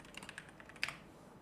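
Quick typing on a computer keyboard, a close run of light clicks ending with a slightly louder keystroke, then quiet.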